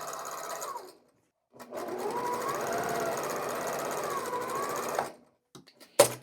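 A sewing machine stitches through a chain of half square triangle quilt squares in a long steady whirring run after a short opening burst, close and clear, ending with a few brief clicks.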